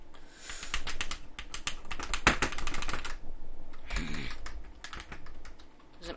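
Game controller buttons click quickly and busily, a dense close-up patter of taps with brief pauses and one louder knock.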